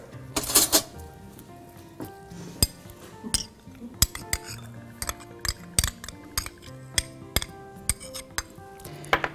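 A metal spoon clinks repeatedly against a bowl while salad dressing of mustard, lemon, olive oil, salt and honey is stirred, giving a steady run of sharp, close taps with no talk.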